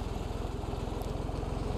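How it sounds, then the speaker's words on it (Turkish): A tractor engine with a trailer idles close by in a muddy forest campsite, giving a steady low, rapid chugging pulse with a faint rattle throughout and no voices. "böyle bir römorklu motor, traktör geldi"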